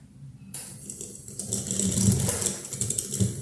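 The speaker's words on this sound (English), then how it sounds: "so the motor can spin the thing to see how much power we can generate" A modified induction motor is spun up as a homemade AC generator, driven by a second motor. A mechanical whirring and rattling starts abruptly about half a second in, then runs steady and fairly loud with a slight ratcheting texture.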